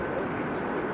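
Landing airliner with thrust reversers deployed at Amsterdam Schiphol Airport, heard as a steady, loud broadband roar that fills the whole moment without a break.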